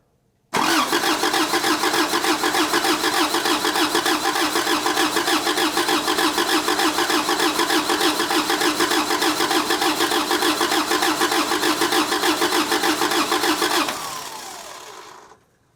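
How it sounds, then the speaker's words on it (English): A junkyard car engine, ignition coil disconnected, cranks continuously without firing, a steady loud churning drone for about thirteen seconds before stopping. "I'm gonna crank it again with coil disconnected"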